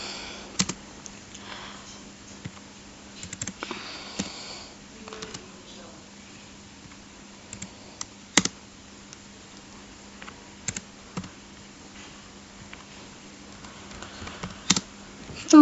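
Computer keyboard typing as patient history is entered into SPSS software, scattered bursts of soft key clicks with pauses over a quiet room hum, fairly faint and close.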